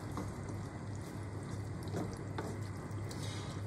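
Cream is stirred into a zucchini gratin mixture in a pan over heat, a soft continuous sizzle and bubbling with a few faint scraping touches. The sound stays close but quiet.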